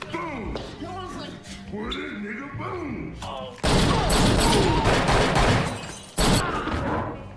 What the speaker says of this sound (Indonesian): Pinball pun selamat dengan datangnya Bond ke sana yang langsung menembak jatuh Hammerman